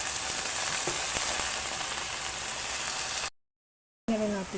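Cabbage sizzles and fries steadily in a hot pan with garlic and onion, a dense continuous crackle with a few louder pops, broken by a short silence before the frying resumes.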